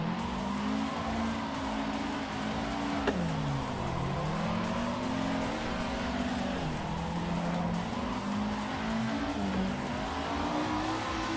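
Toyota AE86 engine during a lap in Assetto Corsa, a continuous buzzing drone that climbs and drops with each shift and corner, with faint tire squeal, steady and close without talk.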